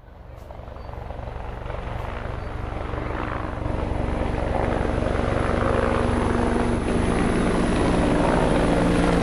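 Helicopter rotor and engine drone builds steadily and grows louder over several seconds, a continuous throbbing wash with broadband noise, no talking.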